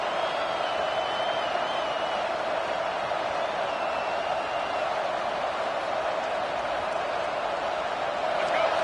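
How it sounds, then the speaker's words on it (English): A college football stadium crowd at Georgia vs Florida State roars in a constant, dense wall of sound from start to finish, with a commentator's voice faintly under it. "The roar of the crowd trying to fuel this defense to keep them pinned in their own end."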